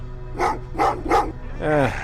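Dogs in the video game Terminator Resistance bark three times in quick succession, loud and near, then give a short whining yelp at the end over a low background hum.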